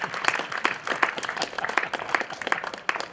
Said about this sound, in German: das war ein super Applaus von mir